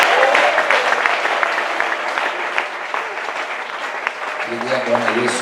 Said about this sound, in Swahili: Yesu makofi mazuri